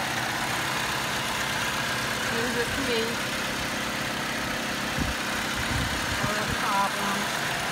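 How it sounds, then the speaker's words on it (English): A Saturn Vue engine idles steadily at medium loudness while a person speaks briefly over the running motor. "Here's the engine. Hope you can hear it."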